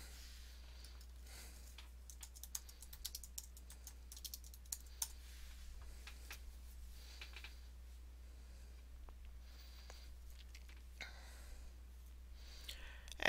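Quiet typing on a computer keyboard, a scattered run of light key clicks spread over several seconds, with a steady low hum in the background and no voices.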